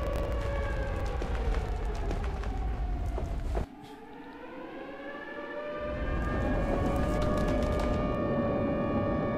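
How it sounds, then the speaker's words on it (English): Tornado warning sirens from the Minecraft Weather and Tornadoes mod wail loudly and continuously, their rising and falling tones overlapping with a broad rumbling roar and scattered crackles. "those are the sirens going off to alert you that it's nearby"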